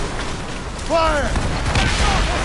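A ship's cannon volley in Assassin's Creed Rogue Remastered, a heavy booming barrage at sea with overlapping blasts, and a shouted voice breaking through midway.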